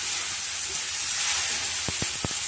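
Sambar ingredients sizzle in a pan, with tomato, arhar dal, bottle gourd and pumpkin, giving a steady bright hiss of frying and a few soft knocks near the end.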